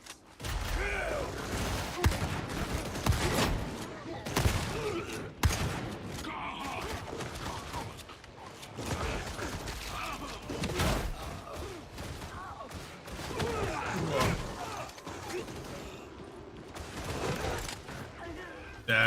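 Shotgun blasts fire repeatedly in Warhammer 40,000: Darktide, irregular loud bangs scattered through a busy battle din with mechanical clatter and occasional voices.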